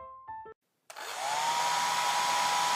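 A hair dryer switches on in a pretend toy salon and blows steadily, loud and constant, after a few short electronic beeps.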